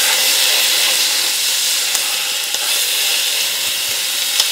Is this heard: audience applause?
no